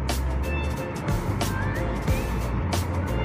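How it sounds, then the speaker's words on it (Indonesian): A Harapan Jaya bus idles and moves at Tamanan bus terminal in Kediri, its low engine rumble steady under busy terminal noise with passing vehicles. "Ini dia ada bus Harapan Jaya via tol yang akan menuju ke arah Surabaya."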